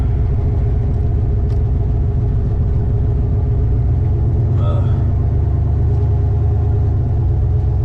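A loud, constant low rumble of race car engines idling or running nearby at a drag racing event, steady throughout with a brief higher whine partway through.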